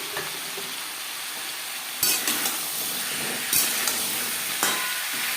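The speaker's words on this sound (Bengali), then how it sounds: "কুমড়োর সাথে শিম বেগুন বেশ ভালো করে মিক্স করে দেবো।" Pumpkin, beans and eggplant stirred in a hot pan, a steady sizzling hiss with a few scraping clatters of the spatula.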